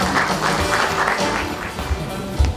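Seminar audience at Soongsil University claps to welcome an SK Telecom speaker to a smart factory presentation, a close, fairly loud burst of applause with a few sharper taps near the end.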